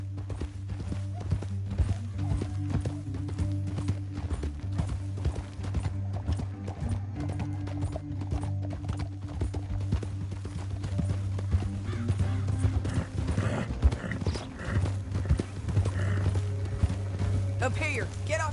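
Horses' hooves clip-clop at a steady walking rhythm in the Red Dead Redemption 2 video game, moderately close, over a low droning score with occasional neighs.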